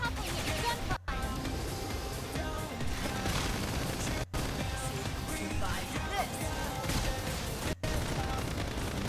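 Dense, continuous gunfire rattles through a battle in the video game Xenoblade Chronicles X. Bursts and impacts are layered over music and combat noise, and in-game voices talk over it with brief dropouts.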